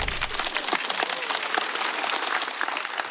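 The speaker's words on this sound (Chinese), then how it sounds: "再次掌声送给史岩。" Studio audience at a Chinese stand-up comedy show applauding comedian Shi Yan, loud dense clapping throughout, steady and close.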